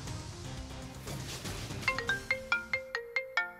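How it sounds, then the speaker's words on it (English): A cell phone ringtone plays a bright, repeating melodic pattern of sharp chiming notes, rising in loudness as it enters and cycling rhythmically near the end. "Adrienne Barker of Tucson recently received an alarming call on her cell phone."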